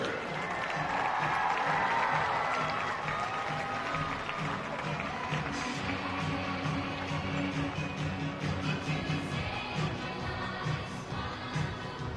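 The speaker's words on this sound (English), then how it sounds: "How about a big round of applause for all of our competitors?" An arena crowd at a college women's gymnastics meet between Rutgers and Iowa applauds and cheers the competitors, dense sustained clapping swelling early and then fading slightly over twelve seconds.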